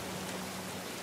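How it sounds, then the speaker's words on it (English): Rain falls steadily in The Last of Us video game, a dense, soft hiss of raindrops pattering on surfaces, faint and continuous with no talk. "Really nice effects here on the raindrops."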